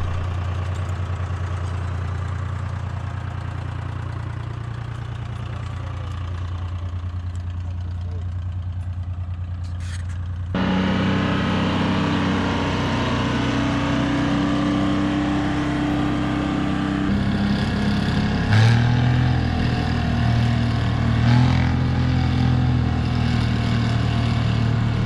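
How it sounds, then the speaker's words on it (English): Two-stroke diesel log skidder used for black walnut logging, its engine idling with a deep, steady throb, then revving up into a louder, rougher, knocking drone that continues to the end. "Here's the beast, the skitter. She's a two-stroke diesel monster."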